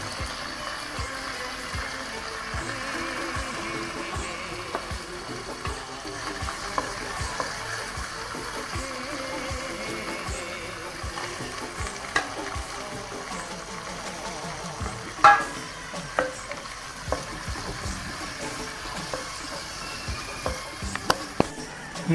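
Oil sizzles steadily in a pan as a tempering of cumin, crushed garlic, green chillies and curry leaves fries and gets stirred, a soft continuous hiss with occasional scraping clicks and one sharper clatter partway through.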